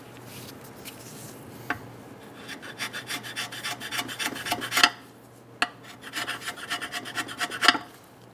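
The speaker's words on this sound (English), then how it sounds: "Try to scrape everything off of the side." A scraper rasps and rubs debris off the side of a 2003-2008 Honda Pilot engine near open ports, a close series of gritty scratching strokes with a few sharp clicks in between, no talking.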